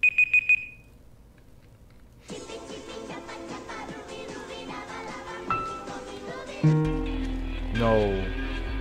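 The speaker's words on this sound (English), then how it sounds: "Oh, there goes the timer." A timer alarm in a Scratch game goes off at the start with a few quick high beeps. Game music and effects take over after that.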